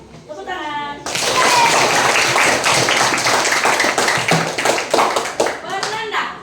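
A group of school students clap their hands together in a loud, dense burst of rhythmic clapping at a school outreach event, with a brief voice before it starts and at the end.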